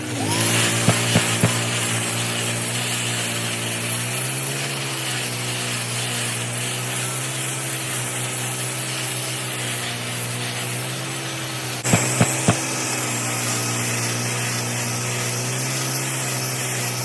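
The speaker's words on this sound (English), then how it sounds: "and we'll grind it off." A grinder steadily grinds cured epoxy stone floor coating off a floor outdoors. Its loud, continuous abrasive roar runs throughout, broken by a few brief clicks near the start and again partway through.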